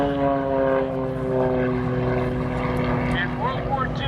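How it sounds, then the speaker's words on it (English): A World War II German advanced trainer propeller plane drones steadily overhead during an airshow display, its engine tone wavering as it maneuvers, while a commentator talks over a public address system. "Now he's going to rack this airplane around quite a bit"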